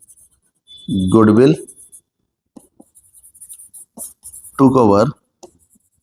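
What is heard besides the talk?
writing the narration with a pen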